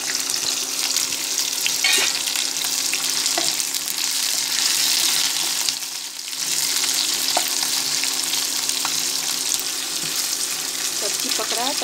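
Vegetables for cabbage Manchurian sizzle and fry steadily in a pan with occasional stirring scrapes, a continuous close hiss lasting throughout with a brief dip midway.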